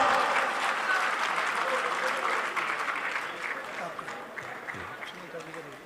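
A crowd at a political gathering applauds warmly to welcome a city mayor, steady dense clapping that gradually thins and fades toward the end, with some voices mixed in underneath.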